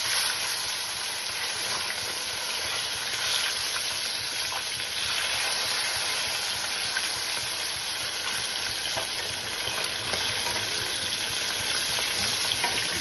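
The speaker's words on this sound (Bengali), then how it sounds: "এক পিঠ ভাজা হোক, তারপরে আমি আর এক পিঠ উল্টে দেবো" Bata fish fry in hot oil in a pan, giving a loud, dense, continuous sizzle that holds steady from start to finish with no voices.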